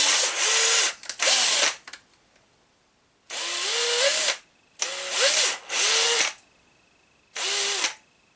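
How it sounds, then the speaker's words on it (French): Drill with a wood bit boring slowly into a plastic RC car part, heard as five loud, close whirring bursts of one to two seconds each, separated by short pauses. "C'est une pièce plastique, c'est un forêt à bois. On est à 2 km/h pour percer."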